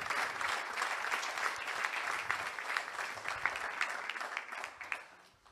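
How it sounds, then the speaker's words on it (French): An audience at a general assembly applauds a CEO as he takes the stage, a sustained burst of many hands clapping at moderate distance, fairly faint and gradually tapering off. "Vous êtes applaudi, Monsieur le Premier ministre."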